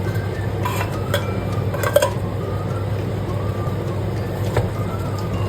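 Chicken adobo with pineapple chunks and soy sauce is stirred in a pan, giving soft utensil scrapes and light clinks over a steady low background hum, with no talking.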